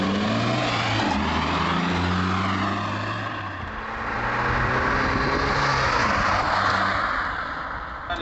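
A Renault Twingo GT Line engine pulls hard with a loud, continuous drone. It climbs in pitch, eases briefly around midway, then builds again, with no talk over it.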